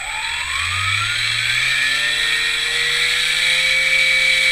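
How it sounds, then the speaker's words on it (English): A brushed electric motor on an ESC throttle whines steadily, its pitch sliding upward as speed rises, sustained and fairly loud with no talk. "I have hooked up a motor to this so I can see the difference"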